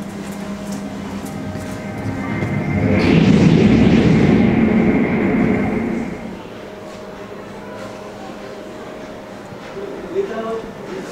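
An L0 series maglev test train rushes past the visitor center on the Yamanashi test line. It swells to a loud roaring whoosh over about three seconds, then fades, with an announcer's voice over the scene.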